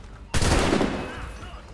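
A single sharp gunshot in the video game Assassin's Creed III, a sudden loud blast that decays over about a second amid quiet game ambience.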